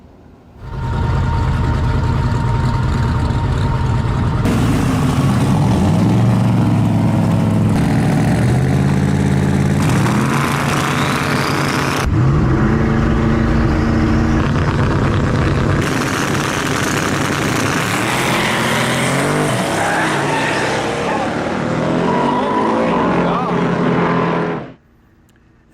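A street racing car at the drag strip ready line, loud engine revving and idling, then a sustained launch roar in several surging stages as it pulls away, cutting off near the end; voices are also present.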